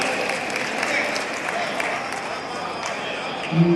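Audience applause at a mushaira held at an exhibition fair in Etawah, a steady wash of clapping from a large seated crowd that stays even throughout, with no distinct voice rising above it.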